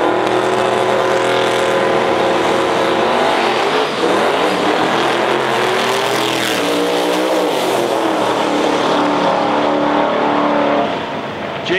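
A Mustang radial drag racing car roars at full throttle down the strip at a heads-up event, a loud sustained engine howl with rising gear pitch sweeps, constant and close throughout.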